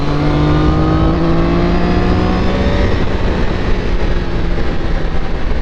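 A Triumph Daytona 660 motorcycle engine drones loud and close while riding, with steady rising and falling engine tones and no talk over it.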